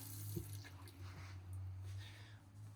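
Water runs from a tap in an off-grid ambulance camper conversion, a soft, steady splashing trickle at close range with no talk.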